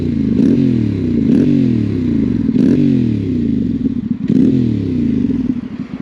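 A Yamaha Tenere 700 Rally motorcycle exhaust while riding, loud and close, rising in repeated revving sweeps that climb, drop and climb again as the engine pulls through the gears.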